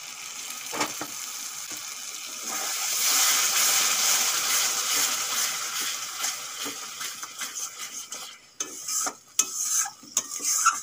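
Tomato paste and ground spices frying for Bengali chicken kosha, a steady close sizzle with stirring scrapes and spoon clinks growing sharper and more broken toward the end.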